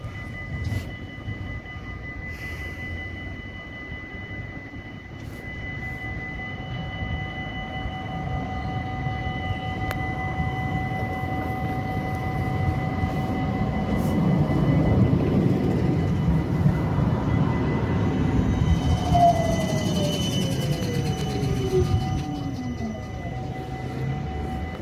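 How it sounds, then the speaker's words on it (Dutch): A GVB Combino tram passes at Amstelveen Stadshart, a steady rumble that swells toward the middle and stays loud, with a rising and falling wheel squeal near the end. "Weer een combinio tram"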